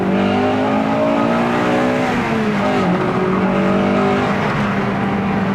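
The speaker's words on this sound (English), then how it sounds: "when it changes over from the normal camshaft to the VTEC camshaft" A 1997 Honda Integra Type R engine revs hard and loud, pitch climbing steadily, then shifts abruptly into a higher, sharper howl as VTEC engages and it keeps pulling.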